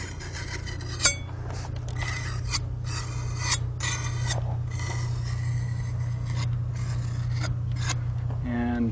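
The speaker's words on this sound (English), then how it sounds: "And this one I'll finish off with this trowel, or at least initially scrape off the edges." A trowel scraping caulking along a crack in a log, heard as repeated rasping strokes in short bursts close up over a low steady hum.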